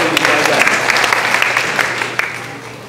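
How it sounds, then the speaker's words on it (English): A church congregation claps together in a sustained burst of applause, loud and dense at first, then thinning slightly toward the end, with a faint voice underneath. "and we give a clap for him, brother."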